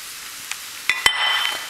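Steamed broccoli and cauliflower being tossed with oyster sauce, giving a few brief clattering knocks and a soft wet shuffling that follows, close and fairly quiet.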